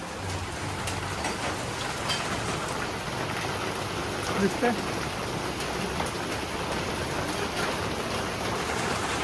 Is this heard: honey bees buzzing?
no